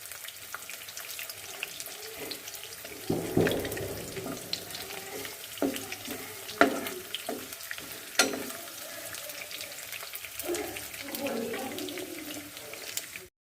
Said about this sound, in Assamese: এতিয়া পিঁয়াজ কেইপিচ লৰাই লৰাই ভাজি থাকিম।